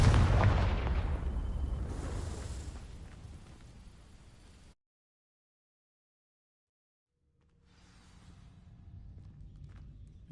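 A Confringo fire spell blasts in Hogwarts Legacy, a loud booming burst that rumbles and fades over several seconds before dropping to silence, followed by a faint low rumble returning.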